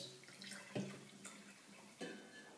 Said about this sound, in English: And now I shall pour hot water in this.